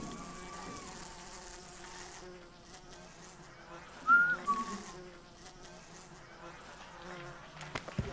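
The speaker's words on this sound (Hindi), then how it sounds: "मधुमक्खी रेडी है" A bee buzzes in a Disney India sitcom scene, a thin, steady drone that swells and wavers as it moves close, with no talk over it.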